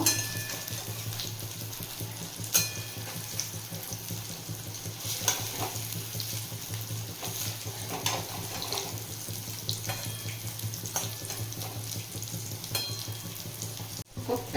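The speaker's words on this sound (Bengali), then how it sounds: "এবার কোপ্তাগুলো একে একে ভেজে নেব" Soybean koftas fry one by one in mustard oil, a steady crackling sizzle that carries through the whole stretch alongside a low constant hum and occasional light clinks of a utensil.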